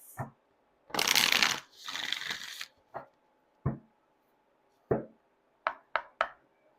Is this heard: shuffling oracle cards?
yes